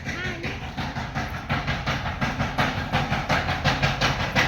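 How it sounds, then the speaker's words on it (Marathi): Masala spices pounded by hand, a steady run of rhythmic heavy thuds repeating at a regular pace, close and fairly loud throughout. "मसाला कुटायचा चाललाय"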